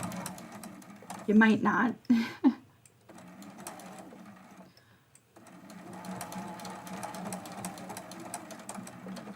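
A sewing machine runs a straight stitch on a quilted mug rug in a couple of short, close bursts of rapid whirring, followed by quieter handling noise as someone talks.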